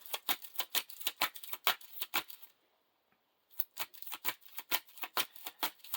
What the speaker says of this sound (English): Now we have to shuffle the encounter.